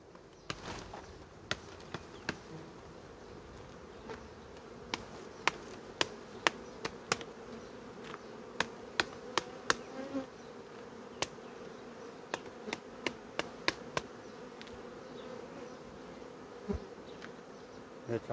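Honeybees buzz in a steady low drone as a heavy frame from a natural swarm's hive is shaken, with a series of sharp knocks and taps scattered throughout, fairly quiet and with no talking.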